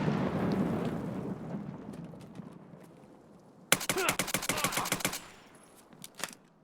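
A frag grenade going off in Escape from Tarkov: a sharp, loud burst followed by a rapid crackling rattle of debris lasting about a second and a half, over faint background game noise and a quiet voice earlier.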